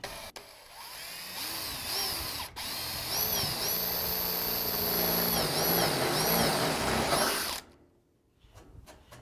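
A power drill bores into a cat-proof fence post, running in a loud continuous whine for several seconds with a short pause near the start, then stopping and followed by a few light clicks.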